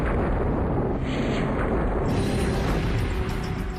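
A comet fragment slamming into Jupiter as a continuous, roaring blast that stays loud and dense throughout, brightening partway through without any clear single onset.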